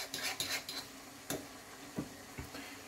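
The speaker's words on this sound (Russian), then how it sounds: "Все это хорошенечко перемешиваем." A spoon stirs tomato sauce with fiery Georgian adjika in a pan for navy-style pasta with minced meat, producing quiet scattered clinks and scrapes against the metal, with no one talking.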